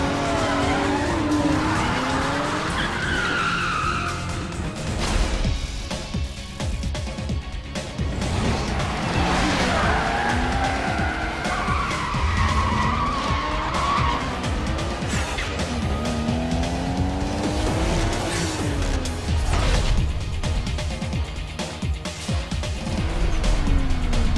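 A police car scrapes along the player's car during a Need for Speed Most Wanted chase, with tires squealing and skidding over a steady, loud roar of racing engines that runs without pause throughout.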